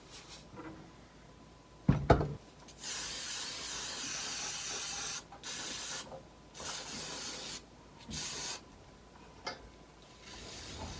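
Spray gun hissing lacquer onto a saxophone body in several close bursts of varying length, separated by short pauses and a few knocks.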